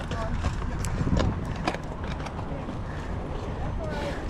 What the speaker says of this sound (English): And there was a horse like freaking out.